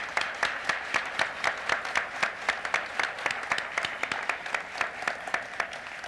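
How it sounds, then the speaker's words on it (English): Banquet audience applauding at a 1997 corporate awards evening, a steady wash of many hands clapping with regular sharp peaks, sustained and fairly full throughout with no voices. "Let's give them a round of applause."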